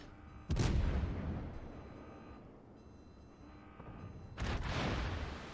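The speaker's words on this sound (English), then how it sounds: "I'm trying to just dodge these Yamato's shots" Yamato battleship main guns firing in World of Warships: two heavy, booming blasts several seconds apart, each with a long rumbling decay, and no talk.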